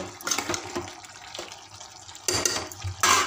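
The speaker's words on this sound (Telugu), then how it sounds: "కాసిన వాటర్ పోసుకొని కుక్కర్ మూత" Boiled water splashes and gurgles into a pressure cooker in several bursts, with short pauses between pours and a loud final gush.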